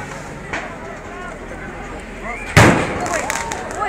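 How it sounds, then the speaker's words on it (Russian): A loud firework bang, a cheap noise firecracker thrown amid a tense street standoff in Luhansk, bursts out partway through, followed by crackling pops and a restless crowd murmuring in the background. "Фейерверк!"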